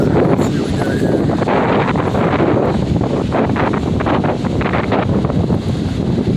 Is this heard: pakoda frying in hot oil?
no